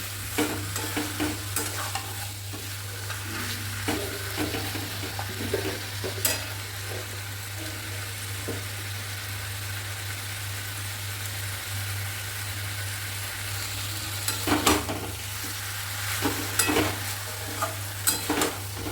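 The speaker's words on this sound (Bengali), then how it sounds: "জলটা যতক্ষণ না শোকাচ্ছে আমি কষতে থাকবো" Chicken sautés in a pan as its released water cooks off, with a continuous close sizzle, a low steady hum underneath, and intermittent scraping stirs that cluster near the end; nobody speaks.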